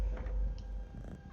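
A cat in the Skyrim VR video game gives a short, soft mew with faint purring, brief and quiet against low background hum.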